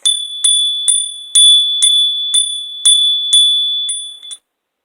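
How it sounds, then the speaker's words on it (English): A small hand bell struck about ten times in a steady, fairly quick rhythm, each bright metallic ring sustaining and overlapping the next, loud and close with no talk, used to clear negative energy. "I use the bell."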